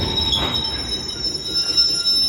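A freight train from Felixstowe bound for East Midlands Gateway squeals through Peterborough station, its wheels giving a steady high metallic whine over a continuous rolling rumble.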